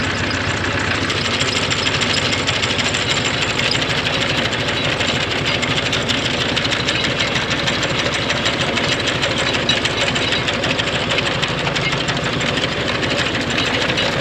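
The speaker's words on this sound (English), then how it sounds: "start getting the tractor moving and see how it actually cuts this stuff down" A tractor pulls a hay-cutting implement through a field in second gear, its engine running steadily and loudly throughout with a continuous mechanical clatter from the cutter, no voices present.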